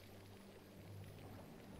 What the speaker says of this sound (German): Das hier muss ich einmal mit Wasser füllen und dann da Feuer löschen.